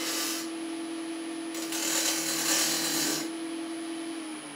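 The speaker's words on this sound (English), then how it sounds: "just scraping and rolling that in now" A woodturning tool scrapes a spinning milk pear wood candlestick on a lathe, the lathe humming steadily beneath a rough, hissing scrape that comes in two close bursts, near and clear with no voices.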